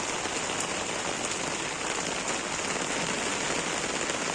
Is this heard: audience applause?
no